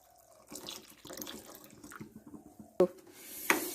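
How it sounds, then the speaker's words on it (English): Coconut milk pours and trickles into a pan of boiled moong dal in soft, uneven splashes, with a couple of sharp clinks from utensils near the end. "Now we'll pour coconut milk."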